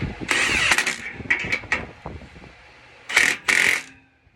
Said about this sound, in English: Get your socket on your impact there and just gently run these up.